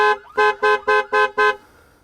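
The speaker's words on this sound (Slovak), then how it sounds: "a máme spustený alarm" A locked car's alarm sounding during a test of a KEETEC GPS Sniper locator, a loud electronic horn blasting in six even, rapid pulses before falling silent, with no talk.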